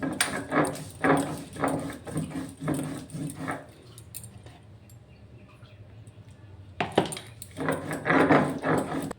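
Cumin and spices being ground into a paste, heard as a rhythmic series of rubbing, scraping strokes at close range that pause for a few seconds and then resume.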